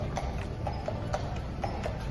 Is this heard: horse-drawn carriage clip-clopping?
yes